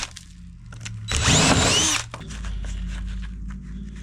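A 3/4 inch core drill whines loudly for about a second as it bores into material, surrounded by a low motor hum before and after.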